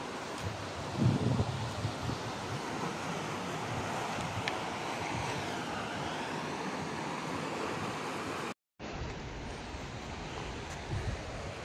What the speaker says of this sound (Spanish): Se escucha el ruidito del agua